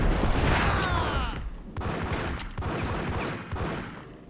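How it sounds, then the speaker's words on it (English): A grenade explosion in the Max Payne video game bursts loudly at the start and rolls into a long rumbling decay, followed by further booms and gunfire-like bangs under a noisy, busy game mix. "I forgot how distinctive the grenade sounds in this game are."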